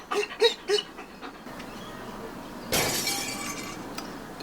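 Glass shatters loudly during a break-in, a sudden bright crash followed by scattering debris, after a few soft panting breaths from a nearby dog.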